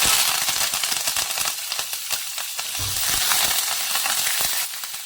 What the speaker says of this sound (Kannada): ಜೀರಿಗೆ ಹಾಕೊಂಡ್ಮೇಲೆ ಕರ್ಬೇವಿನ ಸೊಪ್ಪು ಹಾಕೊತೀನಿ